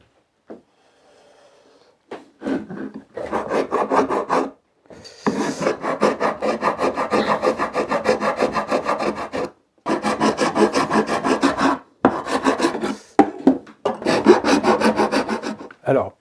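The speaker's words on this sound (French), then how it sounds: "Je vais passer mes tenons à la râpe pour enlever les résidus de colle" A wood rasp scrapes across wooden tenons to clear old glue residue, in long steady rhythmic strokes, loud and close, repeated in several bursts separated by short pauses.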